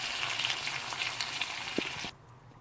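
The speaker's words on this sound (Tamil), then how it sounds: "இப்போது அரைச்சி வச்ச விழுதை ஊற்றிக்கலாம்." Ground spice paste for a Chettinad rohu fish kulambu hits hot oil already crackling with fenugreek, onion and curry leaves, giving a loud, close, steady sizzle that cuts off abruptly near the end.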